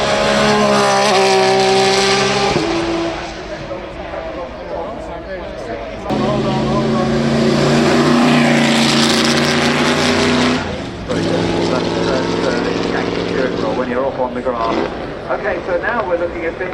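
A race car at the Goodwood Festival of Speed roars past a commentary box, its loud engine note rising and falling through gear changes while commentators talk over it.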